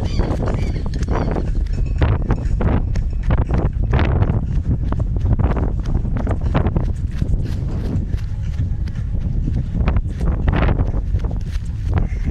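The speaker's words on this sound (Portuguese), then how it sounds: "o vento está muito forte hoje." Strong gusty outdoor wind buffets the microphone in loud, rough bursts throughout, with faint rhythmic thuds of music from a Panasonic MAX3500 sound system underneath.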